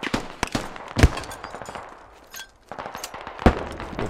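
Gunfire in the military shooter Squad, with an SKS rifle mentioned: scattered sharp cracks and a few close, heavy reports at irregular intervals against quieter distant shots and background battle noise.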